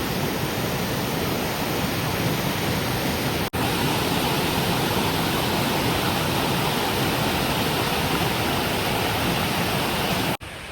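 Palchuram waterfall in Kannur, Kerala roars in a loud, continuous broadband rush of falling water that stays steady throughout, with no voices, broken only by two brief dropouts.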